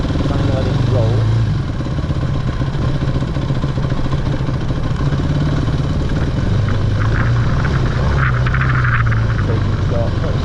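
Off-road motorbike engine drones loud and continuous while riding, the pitch rising and falling with throttle; a voice talks over the engine noise.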